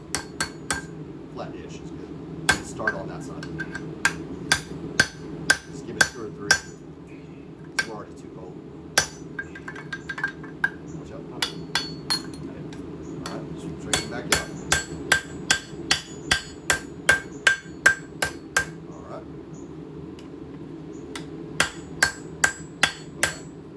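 Repeated hammering on a steel knife blade being beaten flat during knife making, bright ringing clinks in uneven bursts and runs of quick strikes, close up, with occasional faint voices in the background.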